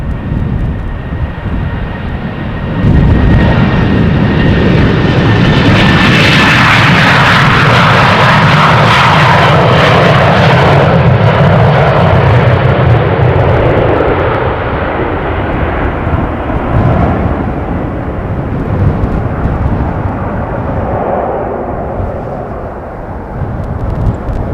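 A jet airliner takes off from runway 36L at Amsterdam Schiphol Airport, its engine roar swelling loudly and sustained as it passes close, then fading into a distant rumble.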